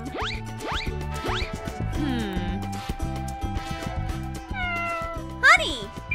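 A cat meows repeatedly in a café, with several rising and falling calls close by, mixed with loud, animated talk and background music.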